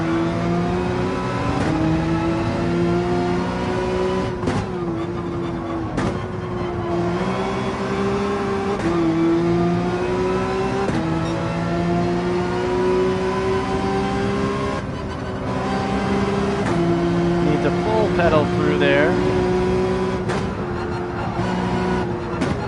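A race car engine in Gran Turismo 7 drones loudly and continuously, its pitch climbing through gears with brief dips at each shift, with steady tyre and wind noise underneath.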